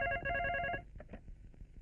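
A telephone rings with a rapid electronic trill for under a second, then cuts off, leaving faint background clatter; the call is being placed to someone's home.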